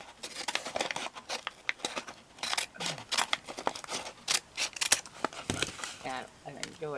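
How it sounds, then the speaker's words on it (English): Repeated crisp snipping and paper rustling from craft scissors cutting paper, close by, with a few soft words spoken in between. "I enjoy using those craft scissors."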